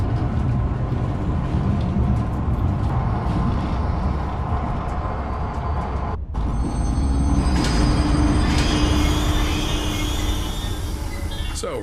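Train in the game Zoochosis starting up and running toward the giraffe enclosure, a steady loud rolling rumble with metallic rattles and a brief squeal, a short gap, then continued running under someone speaking.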